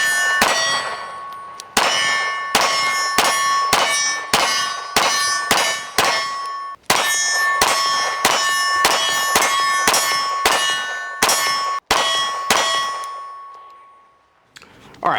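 Sharp shots from a Smith & Wesson Bodyguard 2.0 .380 ACP pistol, about fifteen loud cracks fired in two quick strings with a short pause between, each shot followed by a brief ringing tail.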